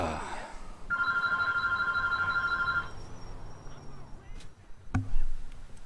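A phone ringing in the GTA IV video game: a bright electronic ring repeats for about two seconds near and clear over faint background sound, then stops, followed by a short sharp knock.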